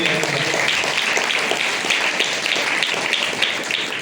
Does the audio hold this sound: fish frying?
no